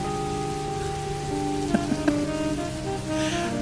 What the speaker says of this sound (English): Rain bashing my cab